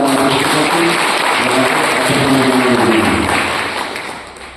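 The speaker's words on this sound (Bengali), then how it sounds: "আমার জন্য একটা করতালি দিয়ে" A crowd at a community event where free seeds are given to flood-affected farmers claps steadily and loudly for several seconds, the applause tapering off slightly toward the end.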